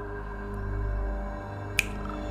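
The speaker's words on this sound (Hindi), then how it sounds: "चुटकी बजाते हुए कहा" A single crisp finger snap rings out near the end, sharp and brief, over a steady low musical drone in a narrated horror story.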